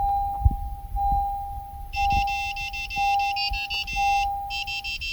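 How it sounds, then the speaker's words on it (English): A steady electronic tone pulses in even beeps, joined by bursts of rapid high chirping beeps from a 2016-2020 Honda Civic key fob programming, close and moderately loud with no talking. "Once hear the beeping sound indicating programming is successful."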